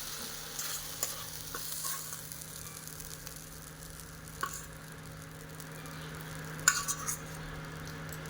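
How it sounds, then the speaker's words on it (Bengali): A fried spice tempering is poured into a pot of khichuri, giving a soft sizzle with light stirring and a few sharper clinks of a utensil against the pot. Quiet and close, with no voices. "এবার আমি এটা খিচুড়িতে দিয়ে দেবো।"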